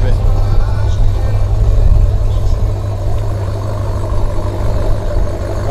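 A Chevrolet Camaro at a drift event rumbles with a deep, steady low engine note, close and loud, with a voice talking over it.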